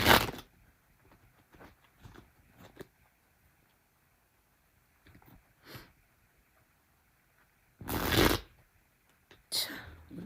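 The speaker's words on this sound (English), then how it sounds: "What is up with my shuffling?" Tarot cards shuffled by hand at close range in several short bursts, with the longest and loudest riffle near the end, separated by quiet pauses and faint rustles.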